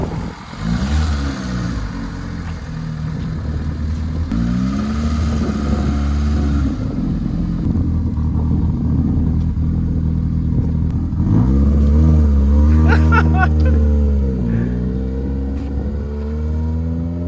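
A small classic JDM car engine drones and revs up and down repeatedly nearby, with rattling and clattering and a louder surge toward the end.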